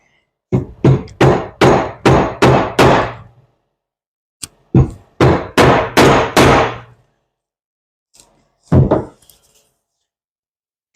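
Repeated sharp knocks as a bushing is tapped onto the back of a water pump during a rebuild, a rapid run of about six evenly spaced hits, then a single blow, a second run of five, and a final pair, all close and loud.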